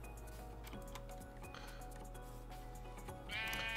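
Sheep bleating in a Minecraft modpack, a single bleat near the end over constant game background hum and faint ticking.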